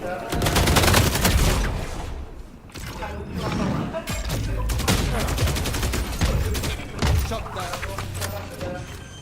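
Dense, sustained gunfire in a Valorant match, with rapid bursts and overlapping shots that keep a loud, constant level and include occasional heavier impacts. Voices speak intermittently under the shooting.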